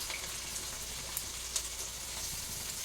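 Three sliced onions frying in a pan for a crab curry, giving a steady, close sizzle with faint crackles and pops throughout and no talking.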